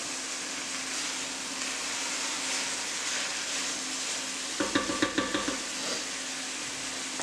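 Onions and carrots sizzle softly in a pot under a constant low hiss, and a spoon clatters in a quick run of light taps against the pot partway through.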